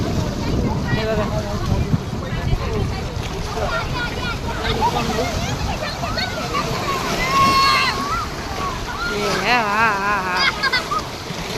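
Sea waves washing in at a beach, a rolling surf under constant wind buffeting on the microphone, with people talking and calling out over it.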